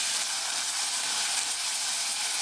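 Pork belly stir-frying in a pan gives a steady, bright sizzle that stays close and even throughout, with no voice over it.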